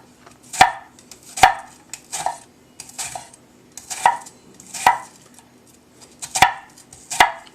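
A knife mincing an onion knocks against a cutting board in seven or eight evenly spaced, crisp chops, close and fairly loud with short gaps of quiet between strokes.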